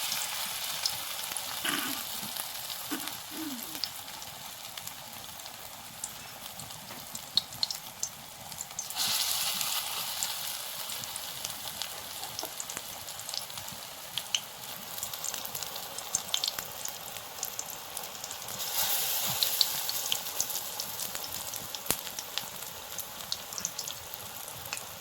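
Raw banana and egg fritters frying in hot oil, a steady close sizzle with crackling bursts that swell around the middle and again near the end, no voices.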